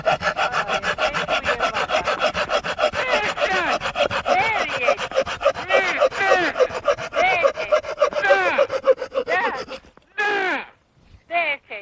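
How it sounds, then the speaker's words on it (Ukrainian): A Tajima G-Saw 240 Japanese pull saw rasps rapidly through a 63 by 39 wooden block in quick, even back-and-forth strokes, then slows to a few final strokes as the cut finishes. "За допомогою цієї пилки я відпиляв оцей брусок"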